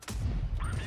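A tank cannon fires in the game Tanks Blitz with one heavy, booming shot and a rumbling low blast that fills the whole brief moment.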